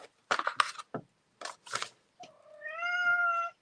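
A cat meows in a drawn-out, rising call near the end, clear and close, after several shorter bursts of other vocal sounds in an indoor home setting.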